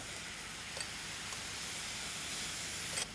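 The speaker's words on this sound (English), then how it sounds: "get some soy sauce and to glaze that straight in the pan" Soy sauce sizzling as it glazes seeds in a hot pan, a steady bright hiss holding level for several seconds with a slight flare near the end, no voices.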